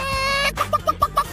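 A person imitates a chicken, giving a drawn-out squawk followed by five quick, evenly spaced clucks, close and clear with no other sound.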